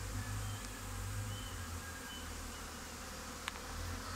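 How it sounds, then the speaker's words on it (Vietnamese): Honey bees pour out of improved multi-tier box hives in large numbers, their thick, continuous buzzing droning loud and close with a faint tick or two underneath. "Ong đi bay làm dập trời luôn."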